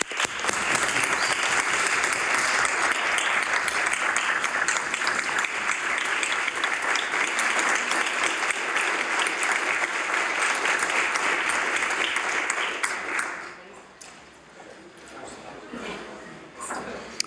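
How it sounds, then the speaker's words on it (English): House of Assembly members give sustained applause for Dr. Gujar in the legislative chamber, dense clapping from many hands for about thirteen seconds before dying away to scattered claps and room murmur. "I ask all members of the House of Assembly to join me in applauding Dr. Gujar for his extraordinary work."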